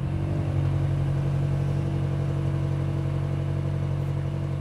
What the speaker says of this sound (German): Wir haben jetzt die Einstellung gespeichert und jetzt starten wir den Motor.